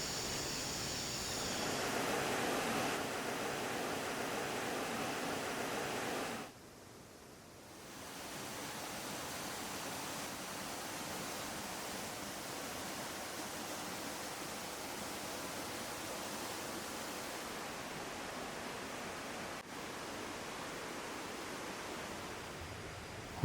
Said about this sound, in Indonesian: Gemericik air yang mengalir di antara bebatuan melahirkan simfoni yang sangat mendamaikan hati.